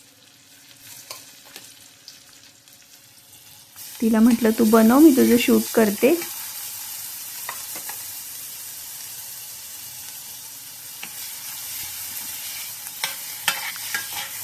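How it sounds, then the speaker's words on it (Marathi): Spices hiss sharply in hot oil as they are tempered in a home kitchen, a loud burst of sizzling that settles into a steady frying hiss while someone talks over it. "फोडणी देतीये."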